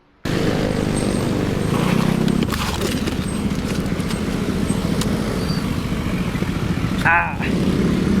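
A motorcycle engine runs steadily and close by for most of the stretch, a continuous low rumble with passing road noise and a brief sharper sound near the end.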